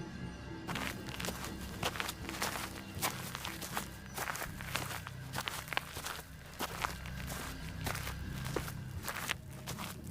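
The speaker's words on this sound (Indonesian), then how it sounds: "Dari dalam tenda terdengar suara langkah kaki." Steady footsteps crunching on the ground outside a tent on a mountain hiking trail, an even walking rhythm running throughout over constant outdoor background noise.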